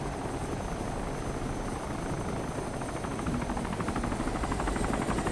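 A helicopter lands in the DayZ video game, its rotor giving a loud, continuous, rapid chop that stays close and steady, with the pulsing beat growing slightly stronger toward the end.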